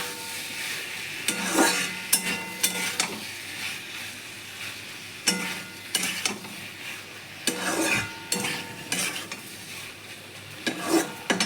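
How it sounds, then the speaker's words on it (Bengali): Cumin and coriander powder spice mix sautéing in a pan before prawns go in, with bursts of scraping stirring over a low steady sizzle, the strokes coming in clusters with quiet gaps between. "দিয়ে এবার আমি এটাকে খানিকক্ষণ একটু কষিয়ে নেব।"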